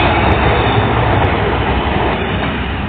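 A train rumbles loud and close at a station, a continuous heavy roar of rolling wagons with no voices over it.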